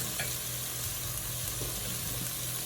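Garlic cloves hitting a hot Dutch oven for arroz con pollo, a soft steady sizzle and frying hiss with a few light stirring clicks, close and quiet, no talking.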